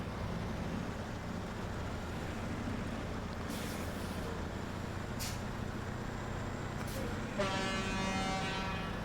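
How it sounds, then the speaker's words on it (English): Loud, deep truck horn in the SnowRunner off-road driving game blares near the end over a constant low engine rumble, after a few shorter, fainter blasts earlier. "That's a big horn."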